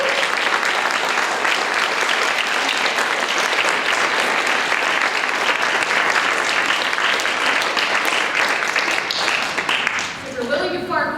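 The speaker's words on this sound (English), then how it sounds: "Please clap" Sustained audience applause after a talk, a loud, dense wash of clapping that holds evenly, then tapers off at the end as a voice begins.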